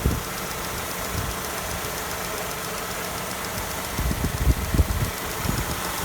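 A 1998 Mercedes-Benz C230 engine runs steadily at idle, a constant low hum with a few louder rumbling pulses near the end, close by with no talking.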